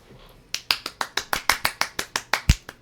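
Finger snapping in a steady series of about fifteen sharp, close, crisp snaps at a regular rhythm, with no voices alongside.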